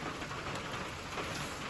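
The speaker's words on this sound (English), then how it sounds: "Rainy out today" Steady rain falling outdoors, a dense, even hiss of drops on surfaces that is faint and continuous with no other sounds over it.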